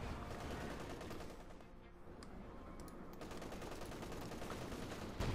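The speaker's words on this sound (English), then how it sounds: "Lots of bazooka fire there." Heavy gunfire and bazooka blasts in a Company of Heroes 2 battle, a dense, sustained rattle of repeated shots and explosions in the mid-distance.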